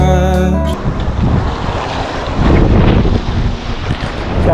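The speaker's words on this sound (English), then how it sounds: "the wind started picking up" Strong wind roars at a coastal fishing jetty, a loud, steady rush that buffets the microphone, mixed with the wash of waves after a brief tonal sound at the start.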